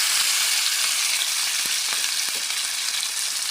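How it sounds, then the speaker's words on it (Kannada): Fish fries in hot oil in a pan over a low gas flame, giving a steady, close, crackling sizzle throughout with a few soft pops and no voices. "ನಾನೀಗ ಮೀನು ಫ್ರೈ ಮಾಡಲಿಕ್ಕೆ ಹಾಕ್ತೇನೆ ನೋಡಿ, ಚೆಂದ ಉಂಟು."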